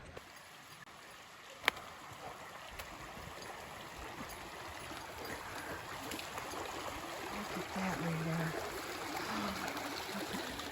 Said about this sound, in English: You can hear the river. Escalante River is right next.